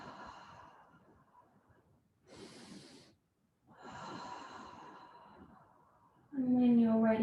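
Slow breaths are drawn in and let out during a hatha yoga class, soft airy exhales and inhales separated by brief silences, ending with a louder tonal sound.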